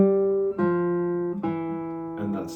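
A classical guitar picks out the bass voice of a measure from a Fernando Sor study, a few sustained low notes changing one after another, clear and alone.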